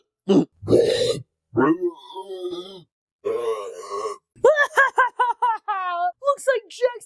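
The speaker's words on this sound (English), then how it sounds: "Another burp, another one." A cartoon character lets out a string of loud, drawn-out burps after drinking heavily carbonated soda, mixed with grunts and groans. Brief bursts of silence separate the vocal sounds.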